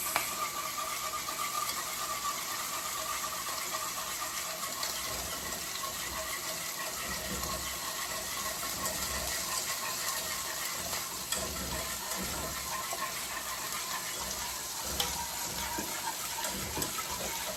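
Steady pouring of milk into a hot pan, hissing continuously and close, with faint whisk clinks throughout and no voices.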